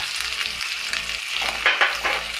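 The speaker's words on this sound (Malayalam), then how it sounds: "ഒരു സ്പൂൺ കുരുമുളക് ചതച്ചത് എല്ലാം കൂടി നന്നായിട്ട് ഫ്രൈ ആവണം" Chili powder, coriander, garam masala and crushed black pepper frying together in a pan for a Kerala beef dish, a loud close sizzle with a spatula stirring and scraping in short irregular strokes.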